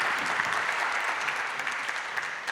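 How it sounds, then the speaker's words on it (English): Audience applause for the speakers at a health management conference panel, a steady, dense wash of many hands clapping throughout, fairly distant and even, with no voices over it. "So give me a first round of applause for our amazing speakers."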